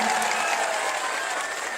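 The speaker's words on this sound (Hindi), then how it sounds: "एक बार कस के ताली बजा के अपना अपना स्वागत करिए, जोरदार ताली बजा के" Loud, dense applause from a large crowd at a political rally in Bihar, a steady wash of clapping that holds throughout without breaks.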